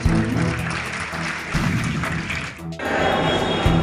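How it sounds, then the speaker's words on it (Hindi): An audience claps at a stage play ceremony, a loud, dense burst of applause that dips briefly near the end and then resumes at full strength. "प्लीज तालियां बजती रहनी चाहिए"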